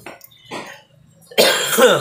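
Two short coughs, then a harsher, louder cough burst at close range, with brief pauses between them.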